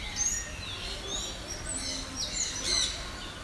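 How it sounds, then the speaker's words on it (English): Parrots at Singapore Bird Park give sharp, high chirps and squawks in scattered bursts over a steady background hum of the aviary. "enjoy these beautiful parrots here"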